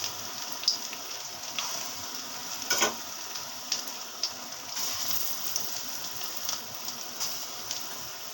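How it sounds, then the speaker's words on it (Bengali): Chana dal fritters frying in oil give a steady, soft sizzle with light bubbling crackle and a few brief louder spatters, continuous throughout and heard alone without talk. "ছোলার ডালের বড়াগুলো আগে তৈরি করে নিচ্ছি"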